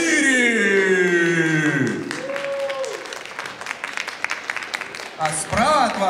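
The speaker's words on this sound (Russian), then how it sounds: "Встречаем аплодисментами." An audience applauds as a contestant is introduced at a saberfighting art challenge show. After a tonal, voice-like opening, a crowd claps in a thick burst with a voice and tones rising over it near the end.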